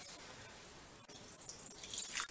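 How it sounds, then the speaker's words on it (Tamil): Running water rinsing fenugreek seeds and urad dal for soaking, a faint drippy trickle that grows into louder splashing toward the end, with no talk. "இதை நல்லா அலசிட்டு ஊற வச்சிடலாம்"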